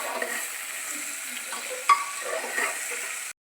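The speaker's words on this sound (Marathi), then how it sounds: "थोड्या भाज्या भाजून घेतल्या की आलं मिरचीचं ठेचा टाकणाऱ्यावरून आणि हे सगळं हलवून घेऊया" Mixed vegetables with crushed ginger-chilli paste fry in a pan for masala rice, a steady soft sizzle with light stirring scrapes and a brief sharper clatter partway through.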